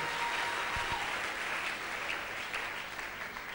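A church congregation applauds during a Sunday worship service to acclaim the Lord, a steady, dense clapping that fills the room throughout without a break.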